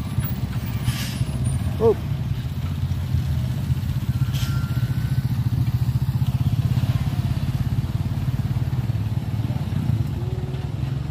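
Truck labouring up a steep hill slick with spilled crude palm oil, its engine droning with a steady rumbling pulse, a short hiss of air brakes and some clatter, with faint voices in the background.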